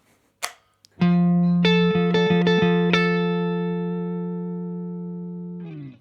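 A Fender Stratocaster electric guitar played through its neck pickup sounds a sustained chord with a few picked notes on top, ringing out clean and loud before decaying, with no talking.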